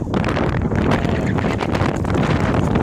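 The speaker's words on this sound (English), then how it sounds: "it just started blowing like crazy, the wind blowing" Strong wind blowing across an outdoor farm, buffeting the microphone with a loud, continuous rumbling roar that holds steady throughout, with no voices heard.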